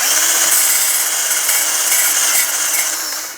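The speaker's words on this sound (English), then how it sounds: "I'm just going to use a wire brush." A wire brush scrubs hard against the rear wheel hub area of a Jeep Cherokee, a loud, continuous harsh scraping that holds steady for several seconds before cutting off.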